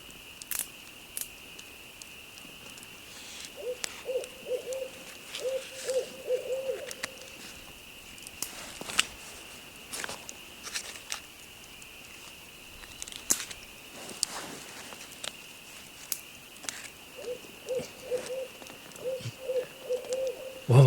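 Barred owls hoot at night in the Canadian wilderness near a cabin. Two bouts of repeated mid-pitched calls carry from a distance over a steady high insect drone, with scattered clicks and taps close by.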